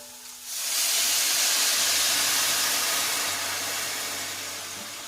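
Water poured into a hot pot of saffron rice erupts into a loud, steady hiss of steam that starts abruptly and slowly fades over several seconds.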